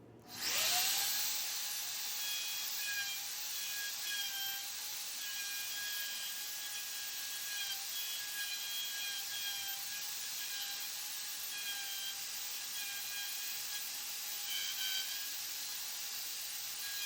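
Router cutting tenons into wood for a compound-angle bench leg, a high, steady whine that spins up sharply at the start and holds continuously with slight pitch wavers throughout, no talking.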